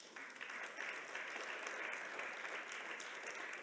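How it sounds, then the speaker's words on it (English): Audience applause at an opening plenary session, steady and sustained clapping from a sizable crowd, moderately distant, with no voices over it. "another round of applause for all of the aforementioned"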